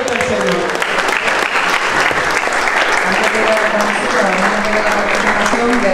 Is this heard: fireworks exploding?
no